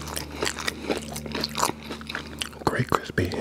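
Close-up bites into a crispy McDonald's chicken nugget dipped in sauce, giving sharp crunches followed by wet chewing and soft mouth sounds. The crunching is loud and intimate, with a faint whisper underneath.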